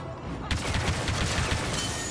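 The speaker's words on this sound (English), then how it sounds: "Cluster flash grenades." Cluster flash grenades go off in the Star Wars Battlefront 2 video game. A dense burst of crackling, gunfire-like pops starts half a second in and continues to the end.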